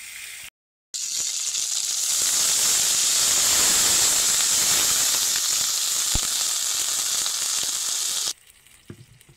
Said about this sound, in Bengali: চিকেনের দুদিকের গায়ের অংশটা যেন ব্রাউন কালার হয়ে যায় ঠিক সেরকমভাবেই কিন্তু চিকেনটাকে ভেজে নিচ্ছি